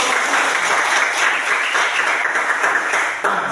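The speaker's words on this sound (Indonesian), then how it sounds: "Ya, tepuk tangan." Dense, continuous applause from a class of secondary school students, loud and close, a wash of many overlapping claps held at an even level before dipping slightly at the end.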